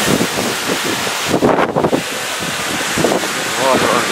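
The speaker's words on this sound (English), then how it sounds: "There's a tropical storm happening. The winds are coming and going, but as you see, the trees are whipping around pretty good." Tropical storm wind gusting through trees, a rough roaring rush that rises and falls, with heavy wind buffeting on the microphone and a person talking over it.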